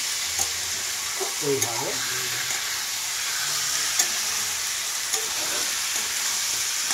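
Chicken pieces lightly frying in a pan for a kohlrabi curry give a steady sizzle, broken by scraping stirs. A voice speaks briefly over the cooking.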